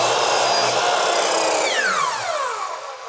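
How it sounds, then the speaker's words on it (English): A power saw cuts a miter in curved wood molding with a loud, close, steady high whine. The pitch then drops as the blade spins down toward the end. "take another one of these guys right here and cut another miter in it"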